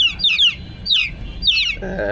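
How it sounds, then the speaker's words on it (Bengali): Aseel chicken chicks cheep in shrill, repeated bursts of high peeping, three quick volleys close by with a short lower sound at the end. "আসিল মুরগির বাচ্চা সম্ভব সাধারণত একটু বেশি ডাকাডাকি করে"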